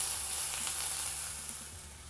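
Ginger garlic paste sizzling steadily in a hot pan while cooking village-style mutton thokku, a continuous soft frying hiss with no talking.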